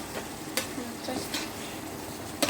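Fiddlehead ferns stir-fried in oil with oyster sauce and fish sauce: a soft, quiet sizzle broken by a few sharp scrapes and clacks of a spatula against the pan, with no voices.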